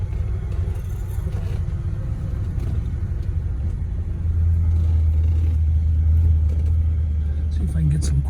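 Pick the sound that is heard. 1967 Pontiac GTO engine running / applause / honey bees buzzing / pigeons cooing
1967 Pontiac GTO engine running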